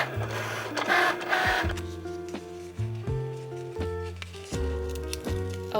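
A cutting machine slices a DIY wall decal, its carriage motor whirring in short rhythmic bursts and stepped buzzing passes, close and alone with no voices.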